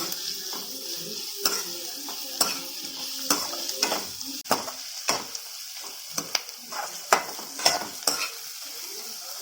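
Chicken manchurian ingredients fry and sizzle in a pan, with a steady hiss under repeated sharp clanks and scrapes of a spatula stirring against metal, fairly close.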